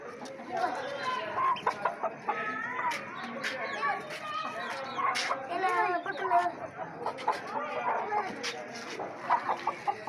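Chickens clucking and squawking repeatedly in short bursts, fairly close, with some busy background activity mixed in.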